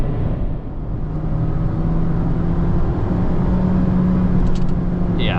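Mazda ND MX-5 Miata engine running steadily from inside the car while driving, with a sustained low drone and a rising engine note near the end as it downshifts for a corner.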